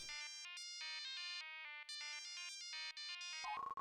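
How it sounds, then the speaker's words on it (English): A phone rings in the video game Khimera: Puzzle Island with a bright, melodic electronic ringtone of quick repeated tonal notes, loud and alone, ending in a short different chime. "phone call, phone call."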